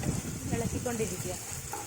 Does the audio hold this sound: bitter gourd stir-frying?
yes